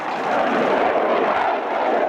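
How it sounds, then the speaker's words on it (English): A Panavia Tornado jet with Turbo Union RB199 reheat engines performs at the 1988 Biggin Hill Airshow, a loud, steady broadband roar that holds evenly throughout. "This is the battlefield Tornado deployed in Germany"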